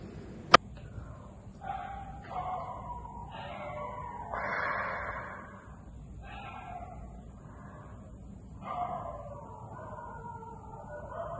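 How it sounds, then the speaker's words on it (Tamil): A dog yelps and barks in repeated bursts with short whimpering cries between them, fairly close and loud, over a steady low background hum. "நாய் கண்டினியூஸா குலைச்சிட்டு இருக்கு"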